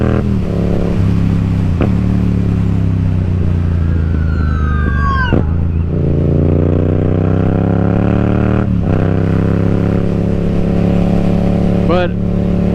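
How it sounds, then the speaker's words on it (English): A 2021 MT-07 motorcycle with an M4 full exhaust rumbles loudly and steadily with rising and falling revs, a deep throaty exhaust tone dominating throughout, with brief higher whines layered over it. "because this exhaust, like I've said, it's insanely loud."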